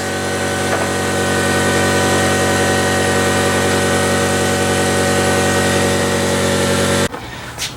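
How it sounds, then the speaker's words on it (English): An air chisel works a serpentine pulley and fan off an old, worn-out alternator from a Ford F150 Cummins swap, a loud, steady pneumatic hammering drone held for about seven seconds, then cutting off abruptly into brief faint clatter. "So an air chisel is very effective at getting this serpentine pulley and fan off of this old and busted alternator."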